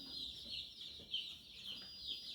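Meat chickens kept as meat birds, a dense flock of soft clucks and high chirping peeps, continuous and close, with no talk.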